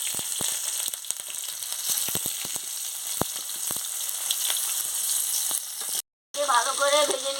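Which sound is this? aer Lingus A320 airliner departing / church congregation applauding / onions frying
onions frying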